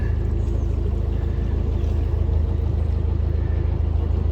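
A small boat passes along a canal, its steady low engine drone and churning rumble holding constant and fairly close throughout, with no talk.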